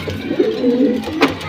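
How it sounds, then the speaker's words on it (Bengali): A breeding pair of homer pigeons, male and female, gives a close, low, rolling coo in one sustained phrase, with a faint brief click near the end and no speech. "এটা হচ্ছে আমার বাসার একজোড়া বিডার কবুতর, হেমার নর, হেমার মাদি"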